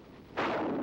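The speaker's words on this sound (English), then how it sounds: "The bazooka." A bazooka fires with a sudden loud broadband blast that swells at once and rolls on as a sustained roar, alone with no voices.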